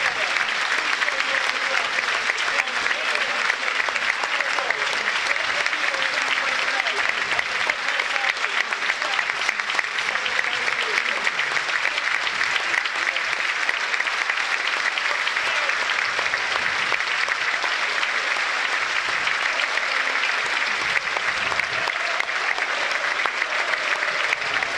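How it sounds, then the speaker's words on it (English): A stadium crowd at Burnley v Chelsea applauds steadily for a full minute in solidarity with Ukraine, a dense, even roar of clapping that holds at the same loud level throughout. "Minute's applause, solidarity shown towards Ukraine"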